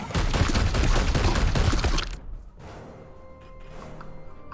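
Gunfire in Warhammer 40,000: Chaos Gate - Daemonhunters, a loud dense volley of rapid shots lasting about two seconds, then cutting off to faint mechanical hums and soft clanks.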